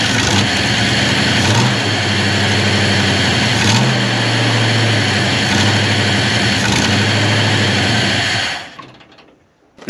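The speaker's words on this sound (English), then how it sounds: "She runs, but she runs poorly. I can't get her to idle." A 1950 Ford F1 truck engine with a freshly tuned carburetor runs roughly and refuses to idle, a loud close uneven drone with periodic surges in pitch before cutting out near the end.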